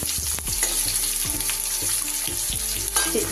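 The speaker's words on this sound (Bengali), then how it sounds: "আলুটা খুব ভালো করে একটু ভেজে নেব।" Thin-cut potato slices fry in hot oil in a pan for a hilsa fish curry, giving a steady close sizzle broken by several clattering stirs and scrapes of a spoon.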